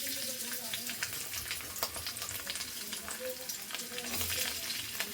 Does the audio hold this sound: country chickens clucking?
no